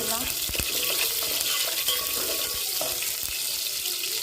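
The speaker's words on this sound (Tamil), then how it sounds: "எண்ணெய் கஞ்சினா கடுகு போட்டுக்கலாம் கருவேப்பிலை போட்டுக்கலாம் வெங்காயம் போட்டுக்கலாம்" Mustard seeds, curry leaves and onion fry in hot oil for a coconut-based mutton kuzhambu, giving a steady close sizzle broken by sharp crackles and pops along with stirring sounds.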